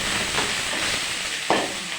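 Onion, green chili and ginger sauté in a pan, making a steady close hiss of frying with a few soft stirring scrapes and one sharper knock near the end.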